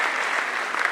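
Dense, steady applause from a large audience at a political speech in New Delhi, filling the whole moment with loud, even clapping and no break.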